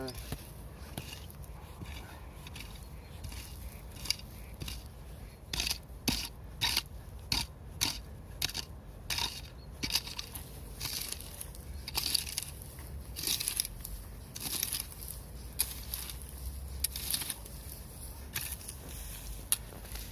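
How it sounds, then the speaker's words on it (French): A rake scrapes and drags loose dirt across a BMX jump outdoors to fill its larger holes, making repeated close rasping, gritty strokes in an uneven rhythm. "Là je rebouche les plus gros trous avec le râteau, mais on en remettra et on tassera avec la pelle."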